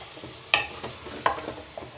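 A spoon stirs dal palak in a pot just after water has been added, giving a few distinct scraping clinks about three-quarters of a second apart with soft sloshing between them, close and fairly quiet.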